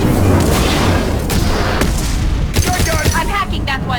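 Gunfire and heavy blasts in the Mass Effect 2 Legendary Edition, during Jacob Taylor's loyalty mission, as a captain guns down his own crew, a dense, loud barrage of booming shots with voices talking over it.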